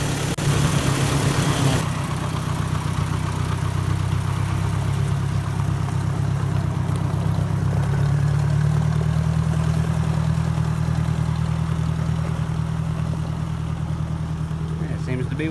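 A Ford 640 tractor fitted with a new aftermarket carburetor runs at a steady idle, a loud, close, even low rumble that continues for the whole stretch, with a brief louder burst at the start.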